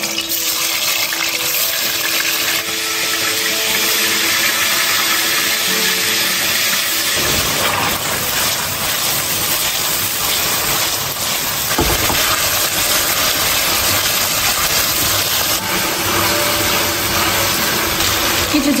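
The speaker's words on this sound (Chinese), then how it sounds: "热锅凉油，开始煎鸡翅。" Marinated chicken wings fry in oil in a pan, giving a loud, continuous hissing sizzle that holds steady for the whole stretch, with small surges and no voices.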